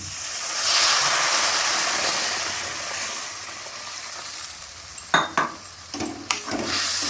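A Mourola fish curry with red chili and Kashmiri chili powder is stirred in a pan after warm water is added, giving a soft continuous simmering hiss with a few sharp spoon scrapes and clinks against the pot near the end.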